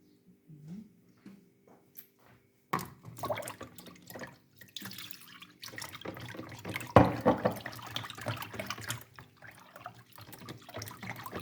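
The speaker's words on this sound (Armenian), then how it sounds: "Ավելացնում եմ ջուր, 1 լիտր կաթին 1 բաժակ ջուր" Water is poured into milk for pancake batter, giving a faint liquid trickle and splashing that starts suddenly and continues in uneven bursts, with small knocks and clinks of kitchen utensils, recorded close in a quiet kitchen.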